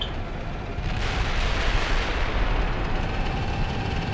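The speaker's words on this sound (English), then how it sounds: "that's White Platoon engaging the enemy tanks located to our north" Tank gunfire in the Steel Beasts Pro PE game, a dense roaring rumble of distant cannon fire and explosions that swells slightly after the first second and holds steady and loud.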